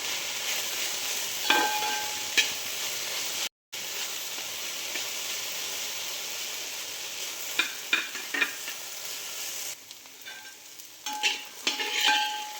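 Okra stir-frying over high gas heat in a pan for a Kerala-style mezhukkupuratti, a steady broadband sizzle with occasional sharp clicks of a spoon against the pan and a brief cutout partway through.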